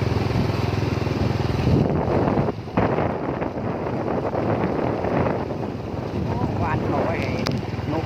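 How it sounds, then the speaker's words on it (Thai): A vehicle engine rattles while driving, a dense loud rumble with a rapid knocking chatter, partly buffeted by wind noise on the microphone. "ฟังเสียงรถพี่น้องกึดกึดกึดกึดกึด"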